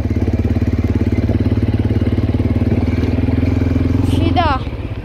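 A 50cc-class-upgrade ATV engine, bought a week earlier, runs steadily at a close, loud, buzzy idle with a throbbing pulse, while someone talks over it throughout.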